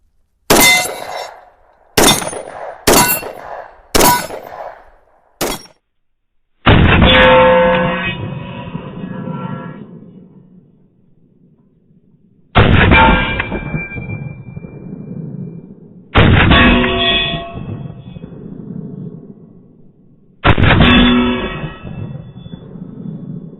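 A Glock 20 Gen 5 10mm pistol fires five quick, sharp shots, followed by four loud, ringing clangs of rounds striking steel targets downrange at slower intervals.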